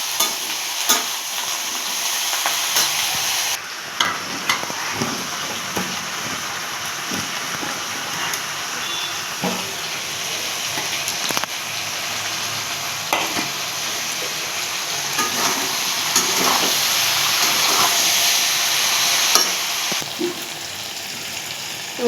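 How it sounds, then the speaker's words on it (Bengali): Okra and potato frying in oil in a wok, with a steady loud sizzle and spatula scraping and stirring throughout, while onion and green chilli go in on top. "কড়াইতে ভেন্ডি আর আলুটা একটু ভাজার পরে পেঁয়াজ আর কাঁচা লঙ্কা একটু হাতে তুলে এর উপরে দিয়ে দিয়েছিলাম।"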